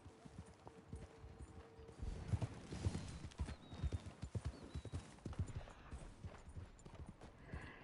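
A horse's hooves in a PS5 video game, a steady run of faint, close clip-clop beats with a brief whinny partway through.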